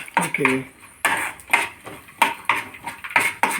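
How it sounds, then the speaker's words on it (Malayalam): Peanuts and dal for a white chutney being roasted in a pan, heard as a series of close clinks and scrapes of a utensil against the pan at an irregular stirring rhythm. "ഇതൊന്ന് ജസ്റ്റ് ഒന്ന് ലൈറ്റായിട്ടൊന്ന് വറുത്താൽ മതി"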